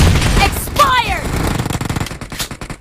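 A UMP submachine gun fires in a warehouse team deathmatch shooter game, with bursts of rapid automatic shots crackling over a busy game mix while players talk.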